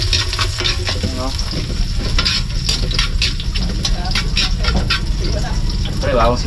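Garlic and onion sizzle and fry in a pan while being stirred for a coconut-milk crab dish with squash and long beans, a steady close crackle throughout with scraping stir strokes and brief voices over it.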